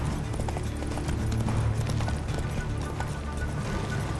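Roach the horse in The Witcher 3 gallops with rapid, steady clip-clopping hoofbeats throughout, up close and continuous over a dense game soundscape.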